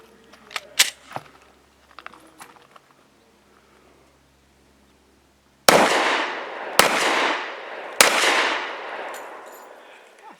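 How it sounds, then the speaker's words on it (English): An S&W M&P 2.0 Compact .45 pistol fires Winchester PDX-1 Defender 230-grain rounds: after a few quiet handling clicks, three loud, sharp shots ring out about a second apart, each trailing off briefly. "we have the Winchester PDX-1 Defender, 230 grain, 5 shots."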